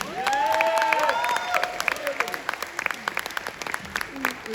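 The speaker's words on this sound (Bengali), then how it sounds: "বাচ্চাদের জন্য একটা বড় হাততালি প্লিজ" Applause for children breaks out in a hall, a dense patter of clapping with some crowd noise and whistle-like tones, loudest at first then thinning into scattered claps.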